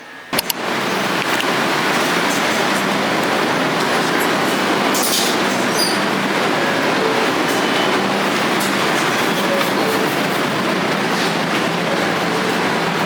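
A New York City subway train ride heard from inside the car, a steady loud rumble with clattering wheels and occasional sharp metallic clicks lasting throughout, with no voices.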